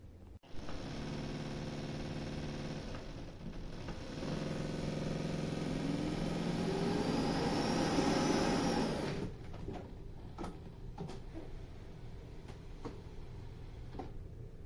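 A NARWAL Freo Z10 robot vacuum docked at its base spins its rollers and then runs a loud, steady suction whir that empties the storage tank into the dust bag. The hum rises, then cuts off into quieter clicks and rattles.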